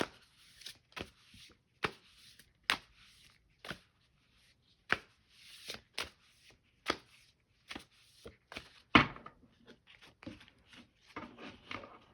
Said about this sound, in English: I need to focus on shuffling